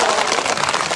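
A crowd at a political rally in Jammu and Kashmir claps loudly and densely in a brief, continuous burst of applause.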